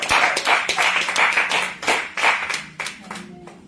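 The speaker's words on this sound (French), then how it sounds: "Alors acclame pour toi-même." A church congregation claps together, dense rhythmic hand clapping that is loud and close, with a voice faintly present beneath the applause as it fades near the end.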